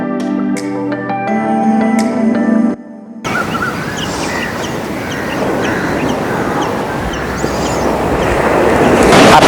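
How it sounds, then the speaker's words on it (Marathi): Large high-tide waves crashing onto a sandy shore at Vengurla, a loud, dense roaring surf that builds toward the end, preceded by a few seconds of unrelated musical tones and a short gap. "भरतीचा काळ सुरू आहे त्यामुळं तुम्ही बघताय की मोठमोठ्या लाटा एकदम किनाऱ्यावरती जोरात येऊन आदळायला लागलेल्या आहेत"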